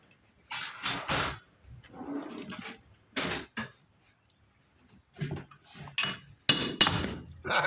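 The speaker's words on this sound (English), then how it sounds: "Well, I'm getting a hammer." A hammer strikes repeatedly on a second-generation Camaro leaf spring during a multi-leaf to mono-leaf conversion, giving loud, close metallic blows in irregular bursts with short pauses between them.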